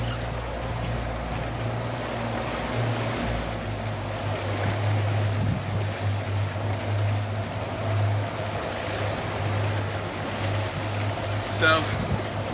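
A fishing boat's motor slows from about 4 knots to under 3 while trolling, a low steady hum under faint water wash throughout.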